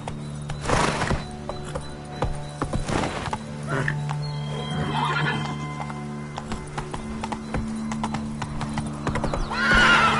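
Horse hooves clip-clopping in an uneven trotting rhythm, fairly close, with whinnies and snorts breaking through and voices calling out between them.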